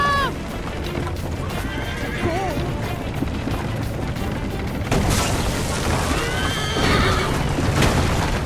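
Video game horse in Assassin's Creed Liberation neighs several times amid galloping hooves, crashes and booms, with shouting voices in the chaotic scene; the whinnies grow louder and clearer toward the end.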